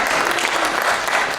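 Brief burst of audience applause at a stand-up comedy show, a dense steady patter of many hands clapping at full volume throughout.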